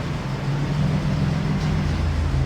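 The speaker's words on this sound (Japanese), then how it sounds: "今エンジンかかってますから" A Nissan Skyline Hakosuka classic car with an L28 engine idles with a steady, low, rumbling drone that holds even throughout, close by, with no voices.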